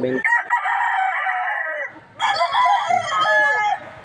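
A Gray breed gamefowl rooster crows loudly and close by, two strong crows in quick succession.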